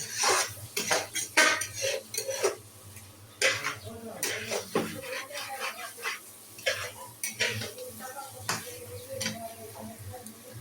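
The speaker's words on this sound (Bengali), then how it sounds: "ভালোভাবে মাংসটা নাড়াচাড়া করে দিলাম যাতে পোড়া যায় পোড়া যাতে না যায়" Chicken meat being stirred in a cooking pot with a utensil, giving repeated clinks and scrapes of metal against the pot in an irregular rhythm, close and fairly loud, with faint sizzling beneath.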